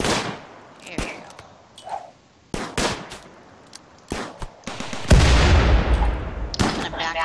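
Defensive turret guns fire in RimWorld, sharp sporadic shots cracking out in irregular bursts, then a dense stretch of rapid gunfire and explosions, with a voice talking intermittently over the combat.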